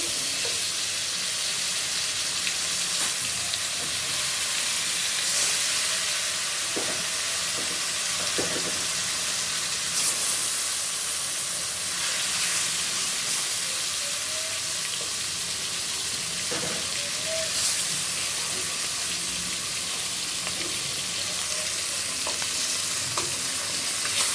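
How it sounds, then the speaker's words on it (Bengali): Koi fish frying in hot oil, a steady close crackling sizzle with faint bubbling pops that runs on evenly throughout, no voices. "দেখো বাকি মাছগুলো ভেজে নিচ্ছি"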